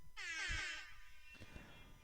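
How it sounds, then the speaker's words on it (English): A single loud, blaring air horn blast lasting about a second, followed by quiet background noise. "do you want more air horn?"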